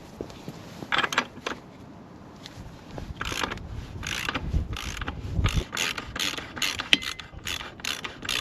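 Rapid clicking of a socket wrench ratchet on a Hayabusa motorcycle wheel bearing, coming in repeated short bursts of tight metallic ticks, close and fairly quiet.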